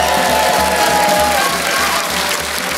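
A French television variety show audience breaks into loud, sustained applause mixed with cheers and whoops, a dense crowd roar running steadily throughout.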